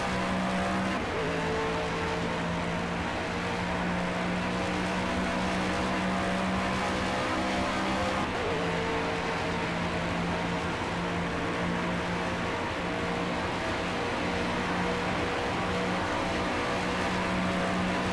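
A race car engine at Daytona in the racing sim rFactor 2, droning steadily at high revs for the whole stretch, with one sudden pitch change partway through as it shifts and keeps running.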